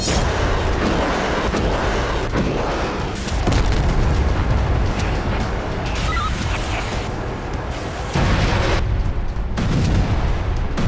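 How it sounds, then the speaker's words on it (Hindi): Loud, dense rumbling booms of explosions from attacks on Belgorod, Russia, fill the recording continuously, with no clear gaps between blasts. "बीते 250 घंटों से बेलगोरोद में होते ये धमाके थम नहीं रहे।"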